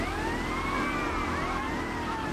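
Police car sirens wail in GTA Vice City, several overlapping rising and falling tones sweeping steadily over a constant engine and traffic rumble, loud and close throughout with no talk.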